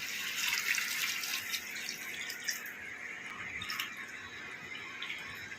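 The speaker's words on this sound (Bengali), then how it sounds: "এবার এর মধ্যে এই গরম জলটা দিয়ে দিলাম" Hot water pours into a pot of rice for a Bengali chal potol dish, a soft steady splashing and trickling close by that eases off slightly toward the end.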